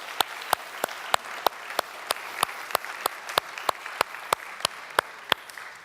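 Congregation applauding a newly married couple at a church service, a steady crowd of hand claps with sharp, regular accents standing out, continuous and fairly close.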